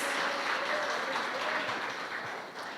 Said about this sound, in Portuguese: Você pode erguer um aplauso a Ele, que Ele é digno.